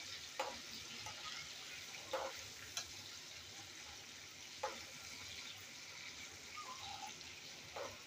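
Paneer fries in hot oil over medium heat with a faint, steady sizzle and a few soft clicks and taps from a utensil scattered throughout.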